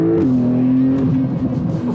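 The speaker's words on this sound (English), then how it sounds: "took the car out for a little shakedown drive" A Porsche 911 of the 992 generation, rebuilt from salvage after accident damage, drones loudly on a shakedown drive: a steady engine tone that shifts pitch slightly as it cruises, close and alone, no talk.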